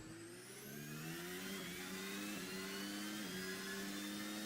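A race car accelerates out of a corner after hard braking, its engine note climbing steadily as a sustained whine, with brief dips from gear shifts, heard faintly as if from a broadcast.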